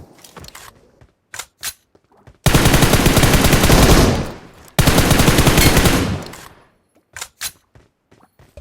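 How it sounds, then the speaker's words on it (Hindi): Automatic gunfire from enemies rattles in a battle royale game, two long loud bursts of rapid shots with scattered single cracks and clicks before and after. "आगे की साइड बंदे होते हैं जिनका फायर आता है"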